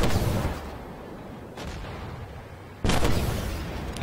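Two heavy tank cannon shots in Armored Warfare, each a loud booming blast followed by a long rumbling decay. They land about a second and a half apart, with a third, stronger blast near the end.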